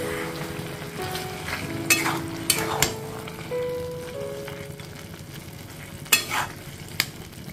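Fish head muri ghonto stirred in a pan with garam masala, a close spoon scraping and clinking against the pan over a soft sizzle, with several sharp knocks spread irregularly through.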